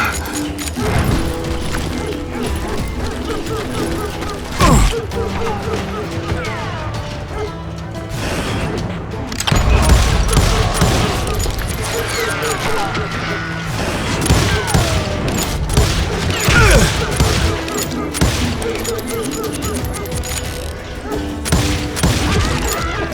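Shootout gunfire from the Western video game Call of Juarez, dense and continuous with repeated sharp shots and crashes over a busy mechanical clatter, loud throughout with heavier bursts near the middle and end.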